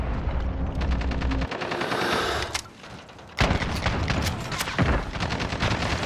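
Gunfire in the video game Call of Duty Modern Warfare comes in a rapid automatic burst, then after a short lull several loud single shots and booms crack close by, with no talk.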